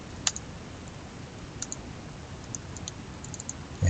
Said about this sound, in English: so I'll double click on that one